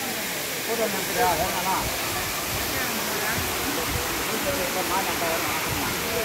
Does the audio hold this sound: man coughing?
no